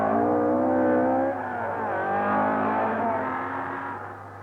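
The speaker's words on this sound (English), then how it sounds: "Here comes Paddy in hot pursuit of Vard's Porsche" A 1600 GT rally car flat out in pursuit of a Porsche on a loose Connemara stage during the 1971 Circuit of Ireland, engines howling loud and close with a pitch drop partway as one passes and pulls away.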